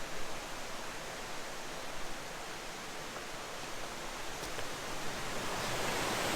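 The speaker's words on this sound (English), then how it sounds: "it's a big waterfall" A big waterfall at Port Ludlow Falls roars as a steady, even rush of water, close and continuous for the whole stretch with no voices.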